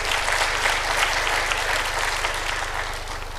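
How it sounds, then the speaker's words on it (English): Sustained, dense clapping from a conference audience at an accountants' chapter flagship event in Bahrain, a steady wash of many hands with a low hum beneath. "A round of applause for our coordinators."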